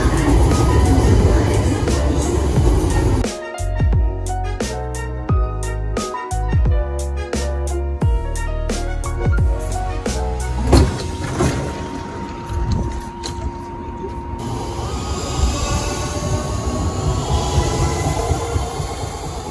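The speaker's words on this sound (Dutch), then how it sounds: "Hier komt de trein richting Genk aan." A train arrives at Brussels-Zuid station on the S8 line toward Genk, rumbling loudly with rhythmic wheel clatter over rail joints, then settling into a steady rolling hum with a faint whine as it slows alongside the platform.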